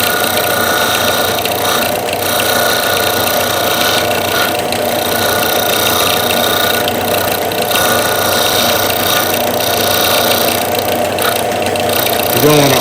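A power sander works steadily on a wooden part for a front-yard arbor, slowly taking it down to fit a hole. The droning motor runs loud and close for the whole stretch with no pauses.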